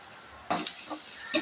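Two sliced onions drop into hot oil in a home kitchen pan, setting off a sudden sizzle with scraping stirs and a sharp hiss near the end, close and fairly loud.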